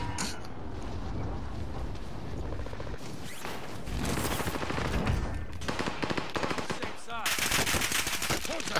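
Sustained machine-gun bursts in a military shooter video game, loud and close, with rapid repeated shots and brief pauses between volleys, plus faint mechanical clanks and a voice now and then underneath.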